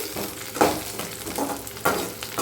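Chicken 65 thokku masala sautéing in a pan, a soft steady sizzle with a few louder stirring scrapes breaking through over its short length, close by and with no talking.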